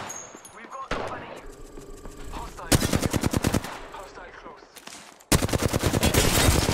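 Automatic weapon fire in the Apex Legends video game: loud, rapid bursts of gunshots in two long volleys, separated by quieter in-game sounds and brief talk.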